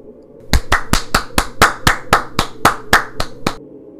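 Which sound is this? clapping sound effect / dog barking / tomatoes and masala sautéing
clapping sound effect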